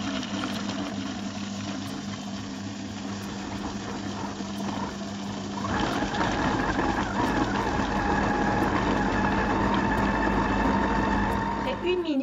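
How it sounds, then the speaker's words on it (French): A kitchen food processor blends a homemade ice cream mixture, its motor whirring steadily before stepping up sharply to a louder, higher speed 7 roar partway through. "On va pouvoir mettre 1 minute, monter progressivement la vitesse de notre robot jusqu'à la vitesse 7."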